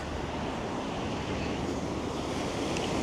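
Surf washing steadily onto Playa Blanca Beach in Lanzarote near Puerto Marineros, a continuous broadband rush of waves mixed with wind buffeting the microphone, with no voices.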